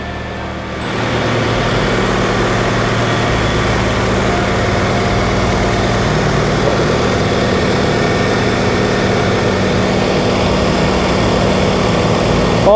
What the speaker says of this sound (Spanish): en el cual tenemos el motor arrancado